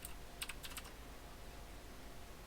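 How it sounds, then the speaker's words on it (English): Several quick keystrokes tap on a computer keyboard during a coding session, a short burst of clicks near the start followed by quiet room hiss. "Again, I'll keep pressing the wrong keys."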